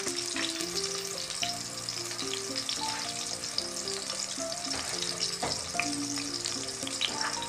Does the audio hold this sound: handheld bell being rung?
no